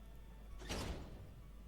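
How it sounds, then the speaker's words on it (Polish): A door closing in a Five Nights at Freddy's style video game, heard as a single brief sliding, mechanical whoosh that rises and fades within about half a second over a faint steady hum. "Mogę zamknąć drzwi."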